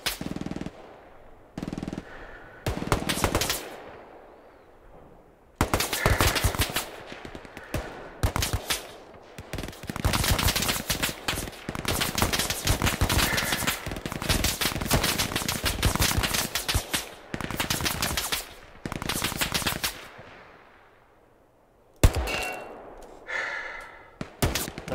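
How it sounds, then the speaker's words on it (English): Bursts of machine gun fire in the WWII shooter Hell Let Loose, loud sustained automatic volleys separated by short pauses, with a quieter stretch at the start and another near the end, and almost no talk. "I'm overwatch with an MG, just ping what you need to be sprayed."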